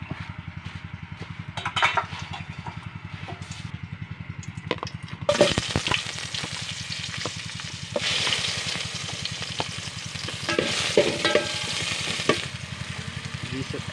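Vegetables for pinakbet sautéing in a pan, a hissing sizzle that swells sharply partway through and keeps crackling, with scattered scrapes and a steady low engine-like drone beneath.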